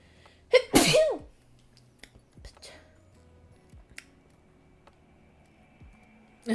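A single loud, sharp sneeze near the start, followed by faint small clicks and quiet room sounds.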